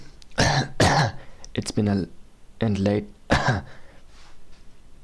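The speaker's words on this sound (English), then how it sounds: "Keep that cough in." A few throaty coughs and throat clearings in short bursts, close to the microphone, separated by brief pauses.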